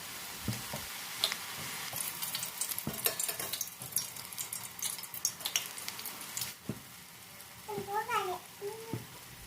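Boondi batter is poured into hot oil for laddu and sizzles close by, with repeated scrapes and taps from a ladle or skimmer. A voice speaks briefly near the end over the frying.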